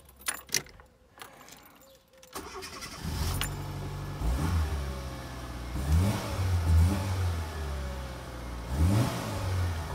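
A Fiat Panda Young with a 900 engine, its air filter and injection modified, jangles its keys and cranks, then starts and idles with a mid-pitched engine note, with several distinct revs rising and falling.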